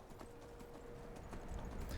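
Hooves of a horse galloping in Skyrim, a quick, steady clip-clop that is faint and distant and grows a little louder toward the end.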